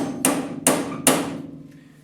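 Three sharp hammer taps marking a drilling point on a trailer joint of a pop-up camper being converted into a utility trailer; evenly spaced, close and ringing, then quiet.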